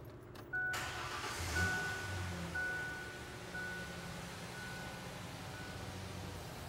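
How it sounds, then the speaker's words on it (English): A car engine starting during a transmission fluid service in a workshop, a brief crank followed by a steady low idle, with a faint beeping tone over it. "I'm going to start the vehicle."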